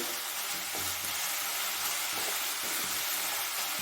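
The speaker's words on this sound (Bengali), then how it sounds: "আর একটু শুকনো শুকনো করে ভেজে নিই" Chicken keema fries in a pan with a steady, close, broadband sizzle and faint stirring scrapes, going continuously with no voices.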